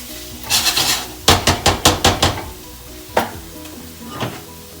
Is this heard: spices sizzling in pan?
yes